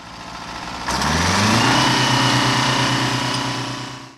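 An Oliver 1900 tractor engine starts up and runs at a steady idle, a loud even rumble with a rhythmic low throb that holds for a few seconds before fading out.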